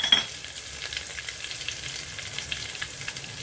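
Curry leaves dropped into hot oil with asafoetida and garlic while cooking bajra amti, a soft, steady sizzle with a faint crackle that carries on quietly without any talk.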